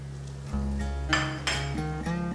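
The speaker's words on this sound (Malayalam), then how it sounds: "ഇതിലേക്ക് നമുക്ക് ഒരു കഷ്ണം തക്കാളി ഇട്ട് കൊടുക്കാം." A few sharp metallic clinks and clanks of a spoon against a pan ring out over a steady hum as tomato goes into browned onions for a toddy-shop style Kerala beef roast.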